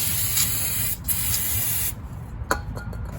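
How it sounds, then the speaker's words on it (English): Brake cleaner hisses from an aerosol can onto a brake caliper in a steady close spray, briefly broken near the one-second mark, then stopping at about two seconds before a few short bursts and faint rubbing sounds. "Next thing I like to do is hit everything up with some brake clean."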